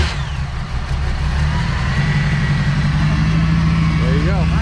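A 1939 Ford hot rod engine, custom built, fires up and settles into a loud, steady, rumbling idle close by, with people talking over it.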